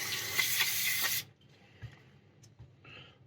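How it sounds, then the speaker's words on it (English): Brake cleaner sprays onto a rifle lower in one loud, close, hissing blast of about a second. After it comes a quiet stretch with a few faint clicks and knocks. "So brake cleaner is the easiest way to blow all that junk off of the insides and onto your workbench."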